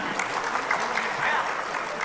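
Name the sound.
audience applause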